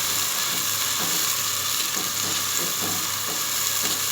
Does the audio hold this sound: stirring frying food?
yes